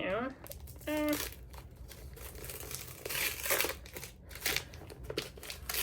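Christmas wrapping paper crinkles and rustles around a book, with close, loud crackling bursts. A person's voice is briefly heard near the start.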